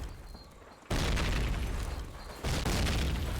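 Grenade explosions in Call of Duty: United Offensive, two heavy booms a second and a half apart, each hitting loud and rumbling on with a long sustained roar, no talk.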